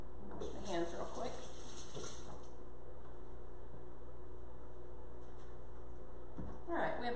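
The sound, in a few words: washing hands under running tap water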